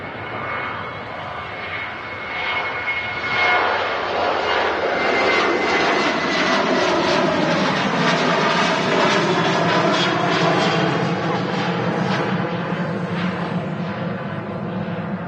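A Turkish Airlines Airbus A321 jet roars past at Manchester Airport, its engine noise building from a distant rumble to a loud, broad, sustained roar that holds steady with a fluttering, rippling texture.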